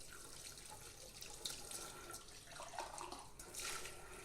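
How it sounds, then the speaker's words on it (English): Tap water runs steadily from a faucet as a freshly washed drinking glass is rinsed of soap and bubbles, a soft continuous splashing hiss with small surges, fairly quiet and with no talking. "Now I need to rinse all the bubbles and soap off."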